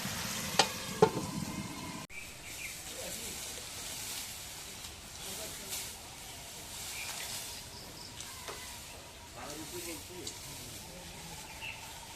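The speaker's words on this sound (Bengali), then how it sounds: "মাছটা দেখে দিয়ে একটু কষাই নিই" Boroli fish from the Dharla river sautéing in a pan, a steady broadband sizzle with occasional stirring scrapes, fairly close, with a louder clatter in the first two seconds and faint birdsong in the background.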